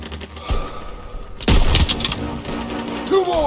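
Gunfire in the World War II shooter Call of Duty WWII, with a burst of loud, dense shots erupting midway and continuing through the rest, plus earlier scattered reports and whizzing, metallic in-game effects.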